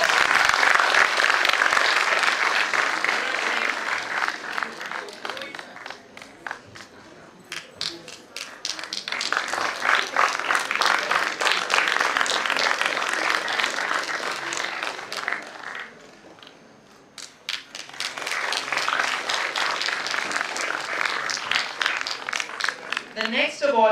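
Audience applause at an award ceremony for a legal moot event, sustained dense clapping that swells, dips and rises again across the stretch.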